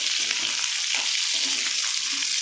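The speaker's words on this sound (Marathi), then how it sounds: "आता याच्यामध्ये ना मी कांदा घालून घेते त्याला चांगला परतून घ्यायचं" Onion sautéing in oil with already-fried cumin and mustard seeds for an onion-tomato chutney, a constant close hiss of frying with faint stirring knocks underneath, no talking.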